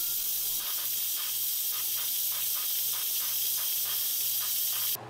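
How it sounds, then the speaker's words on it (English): An Instant Pot pressure cooker venting steam after a 30-minute cook of beef kofte, a loud continuous hiss with faint rhythmic pulsing underneath, steady throughout and cutting off abruptly at the end. "Once the instant pot is done letting out steam, open it and check it out."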